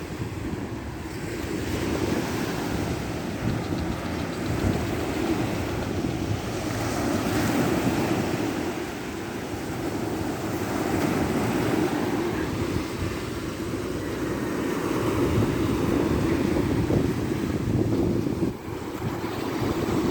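Wind buffets the microphone over a continuous rush of surf breaking along a beach in Naic, a broad steady roar with swelling waves throughout.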